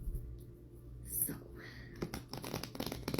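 Shuffling a shadow tarot card deck: soft riffling and papery crinkles that pick up into a quick run of light flicks toward the end, close and quiet over faint background hum.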